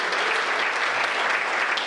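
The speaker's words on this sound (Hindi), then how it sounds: "इसके लिए तालियां लगा दीजिए" Steady, dense applause from a seated audience at a poetry gathering, cheering a poet's son, loud and even throughout with no voices over it.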